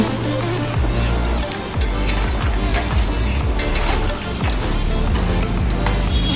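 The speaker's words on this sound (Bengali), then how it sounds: "নেড়ে চেড়ে নিচ্ছি।" Mutton rezala curry stirred in a pot after water is added, a steady loud bubbling sizzle with occasional scraping and knocks of the spoon against the pot.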